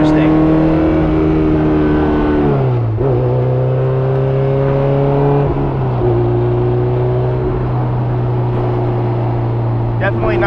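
A Honda S2000 with a built K24 engine revs and downshifts from inside the cabin, its loud droning note dropping and climbing between short gears with quick blips at each shift, while people talk over it.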